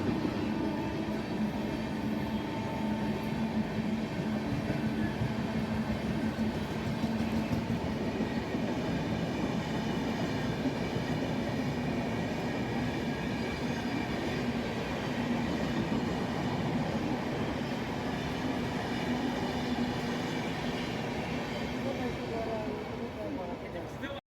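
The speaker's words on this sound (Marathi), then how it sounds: "मी आज रेल्वेने पुण्याला प्रवास करतोय" A train rumbles steadily along the rails from Daund Junction toward Pune, a continuous loud rolling drone with a faint rhythmic clatter of wheels.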